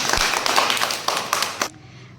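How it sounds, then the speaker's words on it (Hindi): A classroom of young children clapping together in a quick, ragged burst of many overlapping hand claps, close and lively, ending abruptly after under two seconds. "तालियां मारो।"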